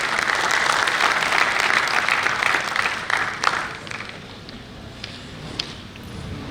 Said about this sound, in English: So please give a big applause to Mr. Suresh Shenoy.